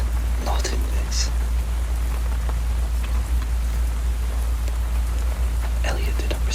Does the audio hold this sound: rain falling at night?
yes